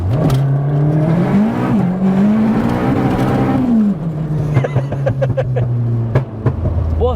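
Big-turbo Mk1 SEAT Leon Cupra making over 500 bhp revving out hard on a road, loud rising engine drone with turbo whine that climbs, holds near the limit, then drops with popping and gear changes, close and dominant.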